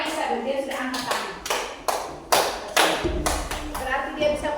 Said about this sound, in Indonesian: kita tepuk tangan untuk Aisyah